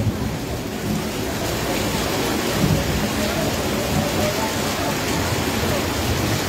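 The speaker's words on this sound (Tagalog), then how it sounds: "Pusog ang ulan." Heavy rain pours steadily with a dense roar, and low rumbling swells briefly in the background like distant thunder.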